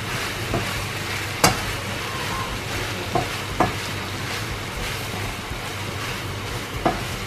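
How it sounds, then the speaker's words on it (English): Pre-cooked meat being stirred into a pot of Nigerian vegetable soup (efo riro), a steady close simmering sizzle with a few sharp spoon clinks and scrapes against the pot. "Add the meat, which already pre-cooked, just like that. Just stir that all together."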